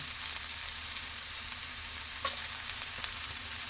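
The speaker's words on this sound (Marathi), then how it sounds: "हे सगळे मसाले चांगले तेलामध्ये परतून घ्या" Spices such as onion-garlic masala, kitchen king masala and coriander sautéing in hot oil for a farsan vegetable curry, giving a steady close sizzle with a couple of brief spoon scrapes, no voices.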